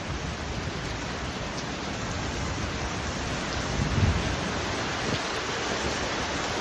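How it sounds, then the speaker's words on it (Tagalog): Heavy rain pours down in Taiwan, a dense, steady roar of water hissing across the whole clip with slight surges, loud and close with no voices. "Guys, sobrang lakas ngayon ng ulan dito sa Taiwan."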